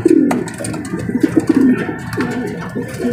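Pigeons coo close by in a loft, a series of soft, throaty rolling calls repeating in short phrases over faint background rustle.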